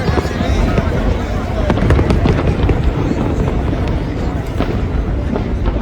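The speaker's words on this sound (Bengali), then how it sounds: "ফায়ার ওয়ার্কস শুরু হওয়ার কথা ছিল 9:15, কিন্তু শুরু হয়েছে ঠিক 9:30" Fireworks burst continuously at a US 250th Independence Day show, a dense run of loud crackling explosions and booms with crowd murmur underneath.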